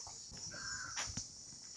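A crow caws a few times at Vedanthangal bird sanctuary, the harsh calls fairly faint against a steady outdoor hiss, with no talking.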